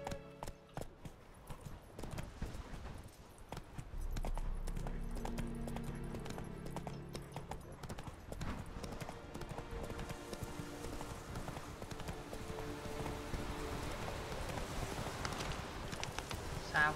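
Geralt's horse Roach from The Witcher 3 video game trots in a steady clip-clop of hooves, moderately loud and continuous, with game music and ambience layered underneath.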